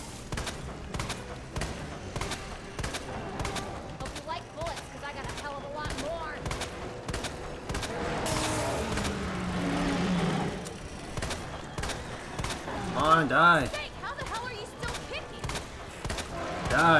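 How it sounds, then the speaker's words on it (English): Gunfire from the video game Resident Evil 2 Remake: bursts of rapid shots with heavy thuds, fairly loud over a busy game soundtrack, with a louder flurry near the end. "Go ahead and get my distance and then start shooting immediately."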